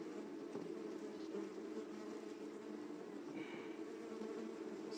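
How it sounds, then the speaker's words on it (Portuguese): Native stingless bees buzz steadily and loudly during a colony split using the 3/1 method, a dense, continuous close-up hum with no voices. "Da mesma maneira eu vou tentar tirar essas abelhas aderentes aqui, tá?"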